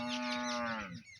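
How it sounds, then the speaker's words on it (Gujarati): Cattle tied up across a farm field, one cow giving a loud, close, sustained moo lasting about a second before fading out. No talking is heard. "જો આખા ખેતરમાં બધી જગ્યાએ ઢોર બાંધ્યા છે."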